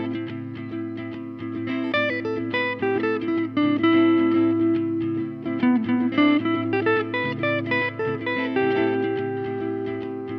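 Electric guitar runs a minor pentatonic line with the ninth in place of the minor third, sustained melodic notes over a held low tone, with effects and reverb, alone and up close.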